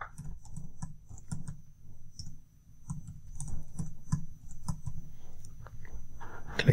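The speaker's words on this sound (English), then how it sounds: "I will type in the password." Rapid, uneven clicks of keys on a computer keyboard as a password is typed, close and fairly steady over several seconds with no talk.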